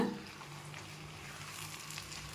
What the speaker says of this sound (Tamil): நல்லா நம்ம கிளறி கொஞ்சம் நேரம் நல்லாவே வேகணுங்க.